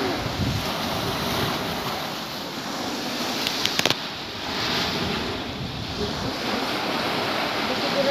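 Sea waves at a beach resort, a continuous broad wash of surf mixed with wind buffeting on the microphone, no talk.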